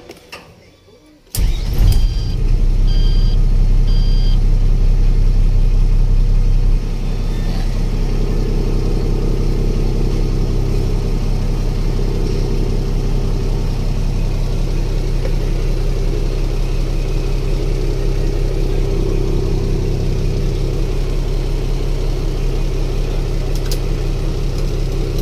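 A car engine cranks and catches after a brief quiet moment, then settles into a steady, close idle with a low hum that drops slightly in level partway through and continues evenly to the end.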